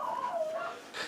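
A dog lets out a single drawn-out, whining yelp that slides downward, then a brief sharp bark at the end, heard alone at moderate volume.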